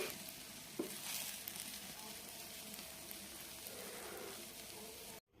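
An omelette sizzles in hot oil in a frying pan. A faint, steady, hissing crackle runs throughout, with one brief clatter early on, before the sound cuts off abruptly.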